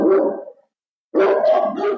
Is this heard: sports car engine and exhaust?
no